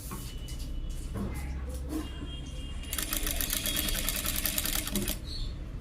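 Sewing machine stitching a patti in fabric, a rapid mechanical chatter that starts and stops, running in short bursts and then a steadier run of quick stitches up close.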